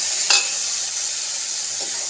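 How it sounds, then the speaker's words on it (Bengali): Cumin paste sizzling in a pan with fried onion and garlic: a bright, continuous close hiss, with a quick stirring scrape near the start. "এবার আমি জিরে বাটাটা দিলাম"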